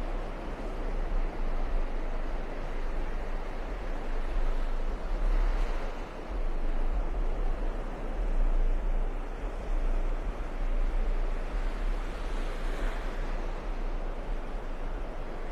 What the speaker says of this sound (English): Love these little waves right here.